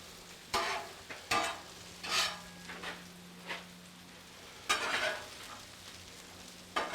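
Jalapenos sizzle in butter on a Blackstone griddle while a spatula scrapes and stirs them in several brief bursts, close and moderately loud over a steady low hiss, with no talking.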